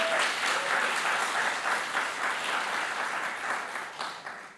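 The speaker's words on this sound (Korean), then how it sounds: "박수 쳐주세요." Congregation applauding during a church Sunday worship service, steady broad clapping from many people filling the room for several seconds before tapering off.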